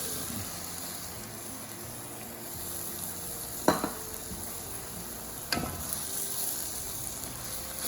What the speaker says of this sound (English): let's get our stir fry sauce that we made earlier.